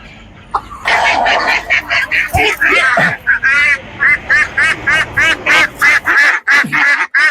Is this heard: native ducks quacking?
yes